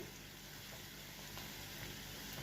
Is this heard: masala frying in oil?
yes